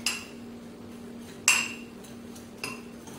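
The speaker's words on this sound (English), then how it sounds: "take a fork and mix the mixture together, combining it till it resembles wet sand" A fork clinks against a bowl while stirring a sugar and cinnamon mixture for cinnamon rolls: three sharp, separate metallic taps, fairly close, over a low steady hum.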